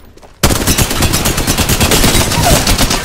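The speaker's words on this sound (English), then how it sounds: "Shots fired." Gunfire in the video game Apex Legends, a quiet moment that breaks into sudden, loud, rapid automatic shots continuing to the end.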